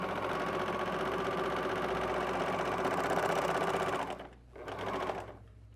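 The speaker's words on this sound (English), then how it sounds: "So I'm just stitching this." A sewing machine runs steadily while stitching fabric using differential feed, with a continuous mechanical whir that dips briefly near the end before resuming and then stopping.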